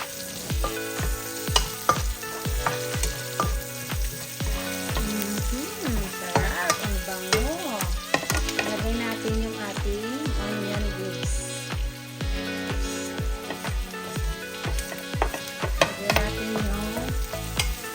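Onions frying in a pan for a beef tail dish, sizzling steadily while a utensil stirs and scrapes in a repeated rhythm throughout, close and fairly loud.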